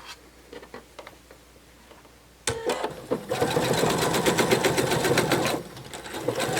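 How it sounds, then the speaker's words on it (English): A sewing machine stitching around a narwhal plush starts after a quiet stretch of small handling taps, then runs in a fast, steady, close rattle for a few seconds, slows briefly and picks up again. "you're going to sew all the way around and then leave an opening here to turn it right side out"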